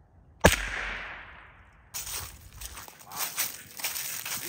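A single sharp, loud gunshot strikes a 3/4 inch thick 3D printed armor plate at close range, with a short decay. After it comes a stretch of bright, hissy rustling and handling noise.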